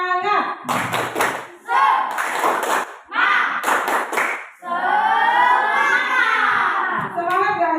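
A school class does a rhythmic spirit clap, with several short bursts of group clapping mixed with children's chanting voices. A teacher's speech follows near the end.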